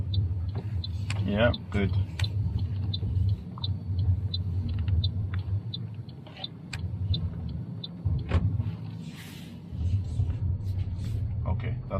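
A manual car's engine idles and rumbles low inside the cabin during a three-point turn, with ticking from the indicator and brief voices talking over it.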